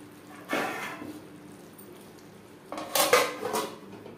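A metal lid clatters onto a pan of Bengali fish curry, two clinking bursts of metal on metal close by in a quiet kitchen.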